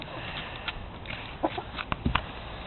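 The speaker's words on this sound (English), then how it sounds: "Now this hen, though, he likes me." A hen in a backyard flock gives a few soft, short clucks at close range, scattered sparsely over faint steady background noise with no talking.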